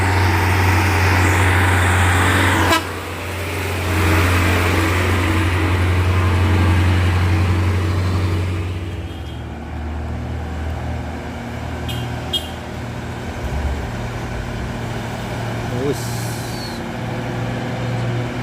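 Old Ragasa 20 PS truck engine running close by, a steady low droning rumble that holds for about nine seconds, then drops to a quieter idle with scattered clanks and hiss.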